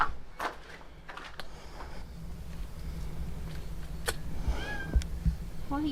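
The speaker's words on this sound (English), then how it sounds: "The cats in the castle and in the car park seem to be really well fed" Cats meowing around a castle grounds and car park, a few short cries rising near the end over rumbling outdoor background and faint footsteps, with some nearby human voice.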